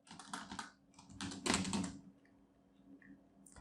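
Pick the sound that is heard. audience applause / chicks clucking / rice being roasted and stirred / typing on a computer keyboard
typing on a computer keyboard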